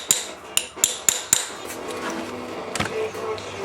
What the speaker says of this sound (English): you can let your driving tool kind of ride the edge of the cam seal retainer so you don't drive the seal in too far